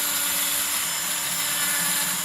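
Continuous close rubbing and scraping, a dry abrasive sound held steady without pauses, as a seam on bronze metal clay is smoothed by hand.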